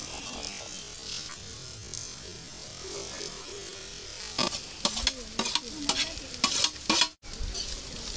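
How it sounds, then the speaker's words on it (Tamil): Small shallots sautéing in a pan for a village feast, a steady frying sizzle with occasional stirring scrapes and clinks growing busier toward the end, close and moderately loud, no talking. "அடுத்தது போடுறதுக்கு சின்ன வெங்காயம் போட்டுக்கலாம்."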